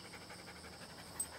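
Dog panting steadily in quick rhythmic breaths during training, faint and close, with a small bump near the end.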